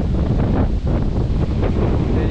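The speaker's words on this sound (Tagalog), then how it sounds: "Yung hangin, guys, nakikita nyo ba? Binabayo na ito." Strong gusty wind buffets the microphone at a seaside campsite in Lobo, Batangas, a loud continuous roar with surf-like rushing and no clear speech.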